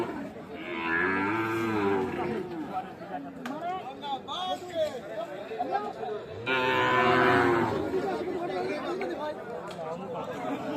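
Friesian cattle moo loudly in long, drawn-out calls at an open-air cattle market, two prominent bellows among a busy crowd with people chattering nearby.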